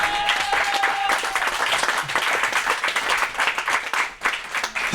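A church congregation applauding and clapping to acclaim the Lord, a dense, loud burst of clapping from many hands that continues steadily without speech.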